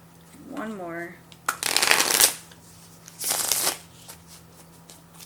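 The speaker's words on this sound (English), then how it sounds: "I'm going to shuffle like I normally do when I'm looking for cards" A deck of tarot cards is shuffled in two loud riffling bursts, close and crisp, after a brief voiced sound at the start, with quiet pauses between.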